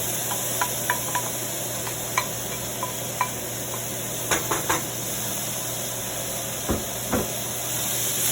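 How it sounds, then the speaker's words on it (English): Leftover meatballs and marinara sauce sizzle steadily in a pan, with a spoon scraping and knocking at irregular intervals, louder clusters of stirring in the middle and near the end, close and without talk. "I'm gonna go ahead and add the leftover meatballs and marinara sauce"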